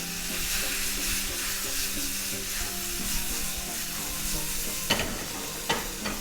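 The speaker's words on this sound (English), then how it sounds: "give it a shake like this, or if you're able to jump it, go ahead and jump it" Beef and vegetables for lomo saltado sizzle steadily in a pan on high heat, with a couple of sharp knocks and rattles near the end as the pan is shaken, and no talk.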